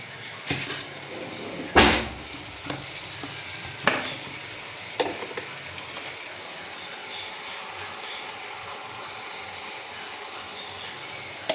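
A dish cooking in a pan, heard as a soft steady sizzle and simmer, broken by a few sharp utensil knocks and stirring clatters early on before settling into a quieter continuous bubbling hiss.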